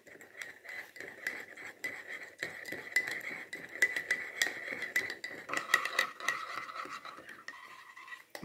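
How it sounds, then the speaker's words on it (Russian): Korean-style carrot marinade of salt, seasonings and water gets stirred with a spoon in a bowl, giving continuous soft scraping and clinking that goes on for several seconds at close range and low volume. "Так, ну все, у нас замешано, просто плохо растворилась соль и все остальное, поэтому добавляем воды, чтобы растворить все ингредиенты."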